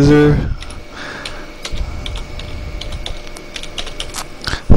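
Typing on a computer keyboard while searching a parts catalogue: a sparse run of crisp individual key clicks and taps at an uneven pace, close by, with a voice briefly at the start and end.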